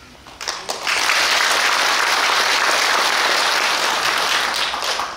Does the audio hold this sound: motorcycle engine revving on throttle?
no